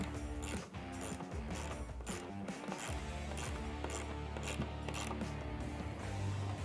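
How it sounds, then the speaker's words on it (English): A ratchet with a 10mm socket tightens the charge pipe clamp on a 2018–2021 Jeep JL during a Mishimoto cold air intake install, giving a rapid, continuous close clicking of the pawl throughout. "Now we can tighten down our charge pipe."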